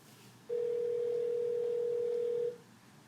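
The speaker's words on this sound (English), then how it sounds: "so now I'm going to call Darrin Shine to get his opinion." A steady telephone dial tone sounds clearly for about two seconds while a phone call is placed, starting and stopping abruptly over quiet room noise.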